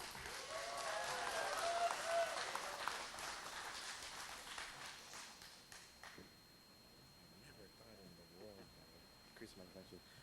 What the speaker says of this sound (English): please give a round of applause and a warm holiday welcome to our KUAM CareForce Ahadayan y Cultura honoree